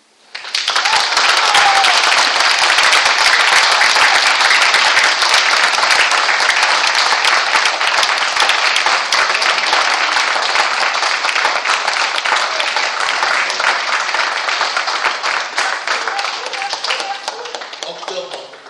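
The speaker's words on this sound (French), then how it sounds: "ces visages sourires, qui vont tous à la fois de leurs mains t'applaudir" A crowd of guests applauding at an 80th birthday party in Mialet, loud and sustained for nearly twenty seconds, with many hands clapping in a steady close wash that tapers slightly at the end.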